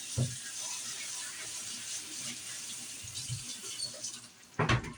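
Running tap water splashes steadily into a sink while rinsing macaroni, a continuous hiss with a few louder knocks and clatters near the end.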